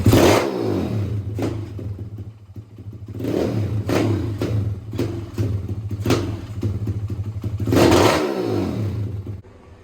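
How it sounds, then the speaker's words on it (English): A Pitster Pro X4 190cc pit bike engine is warming up, idling with a steady low thrum and several sharp throttle blips and longer revs that rise and fall, loud and close. "Get her warmed up, and then we'll see how the throttle responds."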